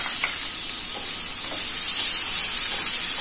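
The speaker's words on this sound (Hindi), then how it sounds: "और फिर ये मस्टर्ड सीड्स, के बाद अनियन" Onion and green chili frying in hot oil with mustard seeds and asafoetida, a steady broadband sizzle with faint stirring clicks, close and continuous with no voices.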